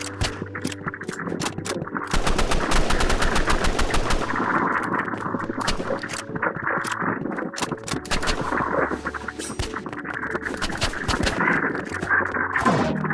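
Rapid automatic gunfire in the video game Roblox Rivals, loud bursts of shots repeating in fast rhythm and coming and going across the clip, with no talking.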